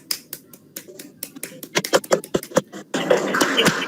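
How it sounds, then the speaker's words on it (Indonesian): A small classroom group claps at the end of a vocational school teaching session, sharp scattered claps building into a denser burst of hand clapping near the end, close and moderately loud with no talk. "Ya, tepuk tangan."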